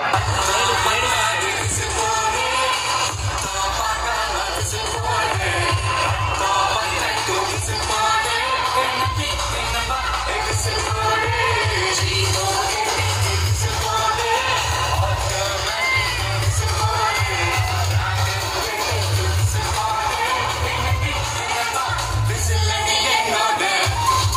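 A large outdoor crowd at a live Vijay TV show in Pudukkottai claps and cheers in a steady, dense roar with children's shouts and whoops scattered through, loud and sustained with no pause.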